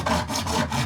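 A saw rasps back and forth through a saw guide during bathroom plumbing work, two or three quick close strokes in a continuous scraping rhythm.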